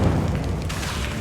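A Confringo fire spell explodes in Hogwarts Legacy, one loud booming burst with heavy low rumble that fades over about a second.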